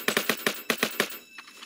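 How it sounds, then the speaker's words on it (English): Several quick gunshots ring out in a steady burst from a gun in the Roblox game Jailbreak, seven evenly spaced cracks over about a second, moderately loud and clear, followed by faint background game noise. "I'm gonna give him a few shots."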